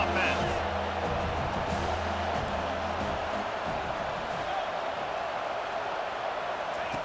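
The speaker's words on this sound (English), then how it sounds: "This crowd trying to make life miserable for this offense" Stadium crowd at a college football game roars steadily and loudly as a broad wash of noise throughout, with a commentator talking over it in the opening seconds.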